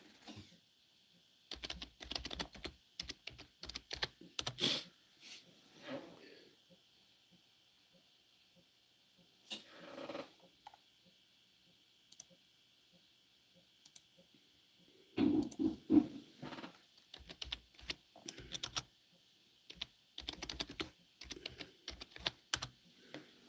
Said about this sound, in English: I'm going to type it in too.